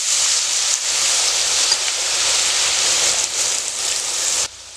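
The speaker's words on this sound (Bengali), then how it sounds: "প্রথমে আলুগুলো দেওয়ার পরে প্রচুর বুদবুদ হবে দেখুন" Shredded potatoes deep-frying in hot oil for crispy jhuri bhaja, a loud, dense, continuous bubbling sizzle close by that cuts off abruptly near the end.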